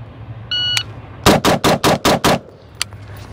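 A Sig SPEAR LT rifle fires a rapid string of six loud, evenly spaced shots, preceded by a brief electronic timer beep; close and sharp with a quiet tail afterward.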